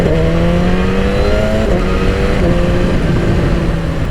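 A 2016 BMW S1000RR inline-four superbike engine holds a loud, steady high-revving drone with layered harmonic tones that shift slightly in pitch as it pulls, continuous for the whole stretch with no talk.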